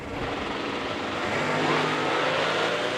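A 1267hp Cobra Jet Mustang drag car launches down the strip at a Bradenton, Florida muscle car event, its engine a broad, steady roar heard from a distance that swells slightly as the run goes on.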